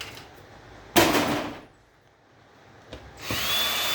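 Power drill backing screws out of a large steel circuit breaker being scrapped for copper, brass and silver contacts: two loud, close bursts of whirring, the first short and the second sustained to the end, with a quiet gap between.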